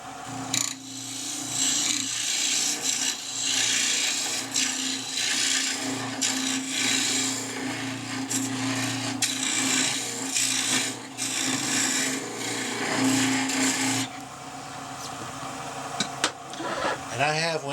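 A wood lathe rough-turns a pear wood box, the gouge scraping and rasping against the spinning wood in long, continuous passes over a motor hum, stopping near the end as someone begins to speak.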